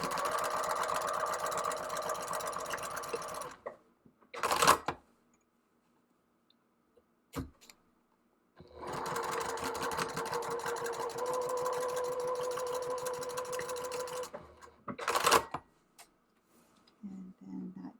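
A sewing machine runs two rows of stitching on a drawstring bucket bag, in two steady, close bursts of rapid mechanical whirring separated by a pause with a few clicks and handling knocks.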